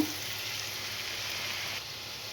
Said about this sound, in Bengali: পেঁয়াজটা আমি ভালো মতো কষিয়ে নেব